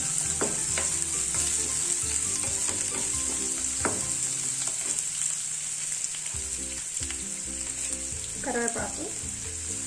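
Medium onion and green chili pieces fry in a pan for vegetable semiya upma, producing a loud steady sizzle with occasional stirring scrapes and spoon knocks.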